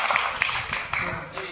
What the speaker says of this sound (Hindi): वीरेंद्र जी की तारीफ बात के ताली बजा रहे